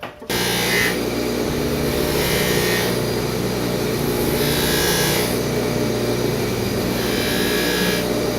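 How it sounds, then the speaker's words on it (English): A dented silver creamer being polished, likely on a powered buffing wheel, which gives a loud, steady whirring drone with regular swelling passes of brighter friction, close up and without talk. "So the last thing to do is to polish it up, and that'll tell me for sure if I'm done."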